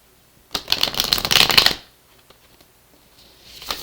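A deck of cards is riffled in a quick, crisp flutter for about a second, then quiet, with a faint rustle at the end.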